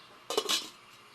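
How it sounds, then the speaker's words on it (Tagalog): A metal lid settles onto a cooking pot of fish soup with lemongrass and ginger, one brief close clatter with a slight ringing rattle, faint and quiet afterward. "Antayin natin kumulo, takpan ulit natin."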